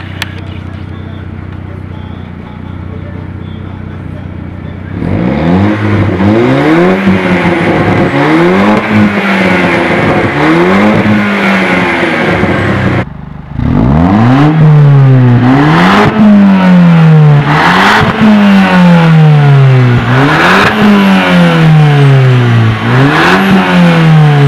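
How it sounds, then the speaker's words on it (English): A loud Audi B7 engine with its muffler deleted revs repeatedly in rhythmic bursts, raspy and unmuffled, with a brief drop in the middle before the revving resumes even louder. "I'll give you guys a few revs right now."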